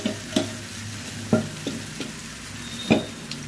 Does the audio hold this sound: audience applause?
no